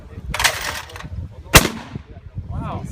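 A real shotgun is fired at a Diwali celebration, giving two loud, close blasts about a second apart. People talk and murmur around the shots.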